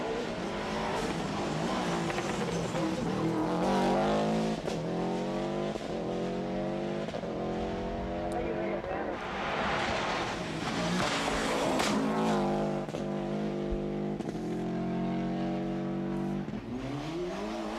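Subaru rally car driven by Michael on a 1995 Lurgan Park stage, engine revving hard and falling between gear changes over and over, with tyre scrabble and skids, loud and close throughout.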